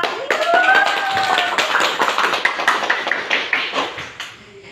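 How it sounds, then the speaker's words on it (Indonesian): A classroom of students breaks into applause, a dense patter of many hands clapping at close range, with a few voices rising over it before it thins out at the end. "Beri aplaus."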